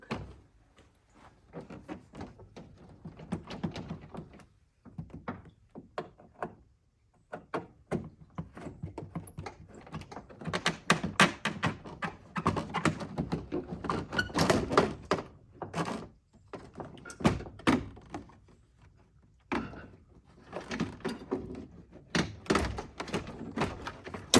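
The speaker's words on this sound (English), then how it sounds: "we're gonna pull off this door panel" Irregular knocks, thunks and plastic creaks as an old truck's door panel is pried and tugged loose, with scattered pauses between the bursts of handling noise.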